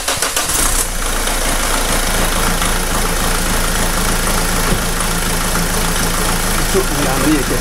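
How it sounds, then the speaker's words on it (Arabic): A diesel car engine in a mechanic's workshop, treated with injector cleaner, starts up and settles into a loud, steady rattling idle that continues throughout. "تو باش نديمارو المحرك"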